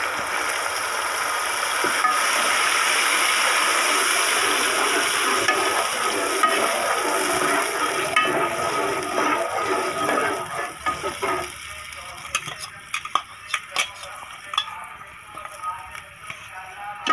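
Yogurt fries and sizzles in hot oil while being stirred for chana dal biryani, a steady loud hiss that gradually thins into crackling pops and scraping stirs.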